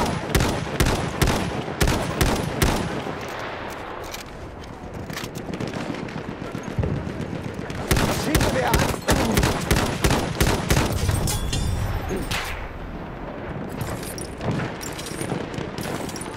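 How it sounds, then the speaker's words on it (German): Gunfire rattles through a Battlefield 1 match on the Galicia map, dense bursts of shots cracking close and loud across the whole stretch, with a few gaps between volleys. "Feindliches Maschinengewehr."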